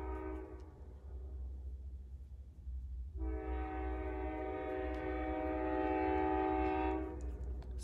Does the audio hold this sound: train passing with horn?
yes